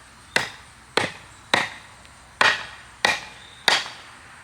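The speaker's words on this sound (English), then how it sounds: "we'll just take a little bigger hammer, knock him up off there." Six sharp hammer blows strike wood at a steady pace, knocking a mailbox board off a post, each a loud crack with a short ringing tail.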